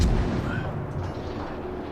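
Anti-aircraft guns firing in the World of Warships naval battle game, a dense continuous rumble of rapid booming gunfire with no clear gaps, loud and steady throughout.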